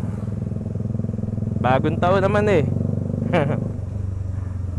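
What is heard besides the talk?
motorcycle exhaust revving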